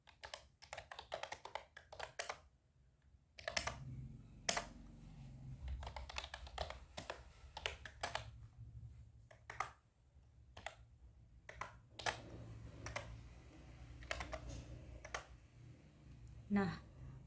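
Computer keyboard typing in bursts of quick keystrokes and single taps, close and quiet, with a voice talking underneath for much of the time.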